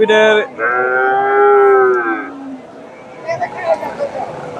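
A heifer lets out a long, loud moo close by at a cattle market, then quieter crowd murmur and voices follow in the background.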